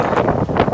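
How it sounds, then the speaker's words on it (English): Outdoors on a very windy day, gusts buffet the microphone with a loud, close, low rumble that swells and dips over less than a second. "told ya, super windy today"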